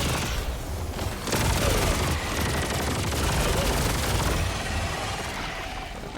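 Grenade launcher firing in Helldivers 2 against bug holes, a dense wash of booming blasts and rattling gunfire that keeps up loud and continuous the whole time.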